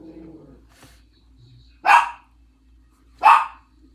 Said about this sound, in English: The barking, the barking. I do not like it.